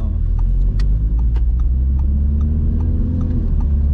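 Engine of a yellow Audi R8 Spyder accelerating on the road, a steady loud low drone with a slight rise in pitch and faint ticking over the top, close and continuous with no talk.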